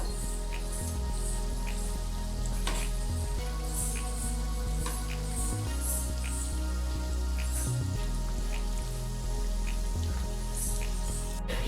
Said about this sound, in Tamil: எப்பயுமே மிதமான சூட்டிலேயே நீங்கள் பொரிச்சு எடுக்கணும்